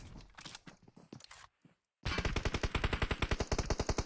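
Gunfire in PUBG Mobile during a match: scattered shots and a short pause, then a long, rapid automatic burst of evenly spaced loud cracks, fairly close.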